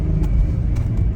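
A supercar engine pulling up a steep driveway gives a brief, close, deep rumble that holds steady with no voices.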